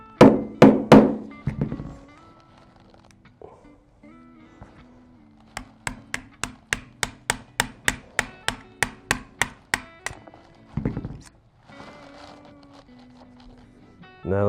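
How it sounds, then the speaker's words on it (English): A rifle's cross pin is pushed out during a TG2000 trigger install, with a few heavy knocks, then a rapid run of sharp taps and some soft handling clunks, all close by. "Set your cross pin off to the side and go ahead and push out the second one."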